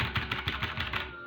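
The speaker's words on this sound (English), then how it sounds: "so I don't have to sit through the dialogue or mash it, which sounds like this" Rapid blips of Undertale Yellow's dialogue text sound from the video game, a quick regular ticking of about eight short clicks in just over a second, clear and alone before stopping.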